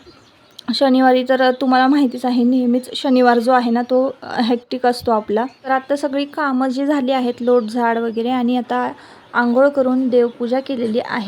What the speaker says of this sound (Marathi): मंजूळ अशी पाखरांची किलबिल चालू आहे